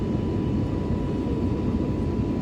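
Steady broadband roar inside an airliner cabin in flight, a constant engine and airflow drone with no other events, moderately loud and unchanging throughout.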